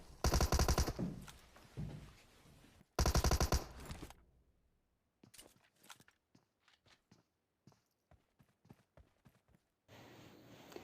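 Gunfire in a shooting video game: two loud sustained bursts of rapid shots, then a quieter stretch of scattered single clicks and footstep-like taps, and another loud burst at the end.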